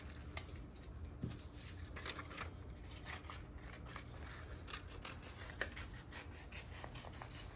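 Scissors snip and rub through paper petals in a close, quiet series of small crisp cuts and rustles, repeating irregularly over several seconds during a Mother's Day craft.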